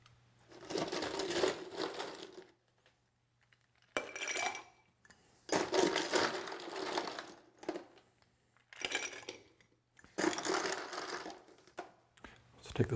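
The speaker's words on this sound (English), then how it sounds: "Now we stir that with ice." Ice being stirred in a mixing glass for a Bamboo cocktail, a steady rattling clink that comes in several bursts separated by short pauses, close and fairly loud with no talking.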